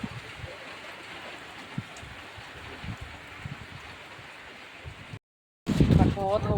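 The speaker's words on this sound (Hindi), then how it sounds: "बहुत तेज़ बारिश हो रही है।" Heavy rain driven by wind keeps up a steady, even hiss and rush. After a brief cut-out near the end, a voice talks up close over it.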